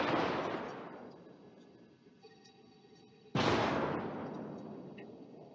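Warship naval guns fire in the World of Warships video game, two heavy booming salvos several seconds apart, each with a sharp crack and a long rumbling decay.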